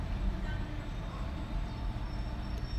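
Train noise at Igatpuri railway station on a second-class journey from Mumbai to Nashik, a steady, loud low rumble that fills the whole stretch without a break and carries no clear voices.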